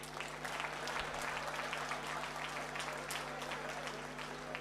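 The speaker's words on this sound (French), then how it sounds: "Applaudissez pour moi" A crowd applauds a speaker telling his life story at an event in Cameroon, with broad continuous clapping from many people at moderate level over a steady low hum.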